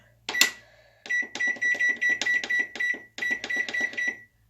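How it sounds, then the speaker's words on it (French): A kitchen microwave oven being programmed for two minutes at 600 watts: a quick run of close, sharp electronic keypad beeps in two bursts, with one louder tone starting the sequence. "À 600 watts pendant 2 minutes au micro-ondes."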